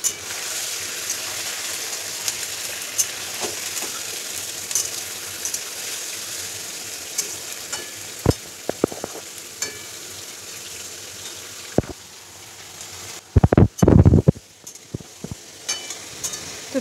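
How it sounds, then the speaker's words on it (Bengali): Washed chicken pieces frying in hot oil in a home kitchen, giving a steady sizzle throughout, with a few clinks and scrapes of a utensil stirring and a louder burst of spattering near the end. "এই তেলে আমি চিকেনগুলোকে ভেজে নেব।"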